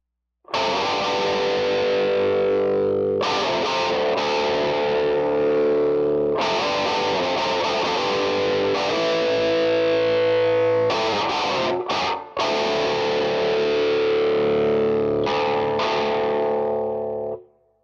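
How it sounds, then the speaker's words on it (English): Heavily distorted electric guitar in drop D tuning, chugging power chords and riffs with short breaks, loud and close throughout, with a mic wire clanging against the strings. "let's have a listen to the drop D"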